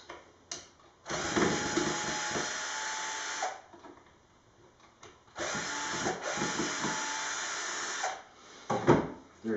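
A power drill backs old screws out of wood in two long whirring runs, each a few seconds, with short stops and a softer start near the end, close and loud with no voices.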